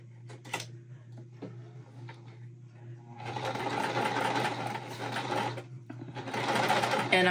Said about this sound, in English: I'm sewing at a 1/4 inch seam allowance